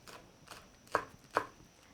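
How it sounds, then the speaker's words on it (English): A kitchen knife chops food on a board during a mindful cooking lesson, with a few soft cuts followed by two sharp, distinct chops, close and alone without talk. "This is a lot of chopping, but chopping is also a mindful practice."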